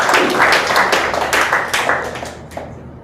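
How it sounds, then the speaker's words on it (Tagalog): A church congregation at a Filipino worship service claps loudly and close, with a burst of many hands that thins out and fades toward the end, leaving a few scattered claps. "Palakpak po natin yan sa ating Diyos."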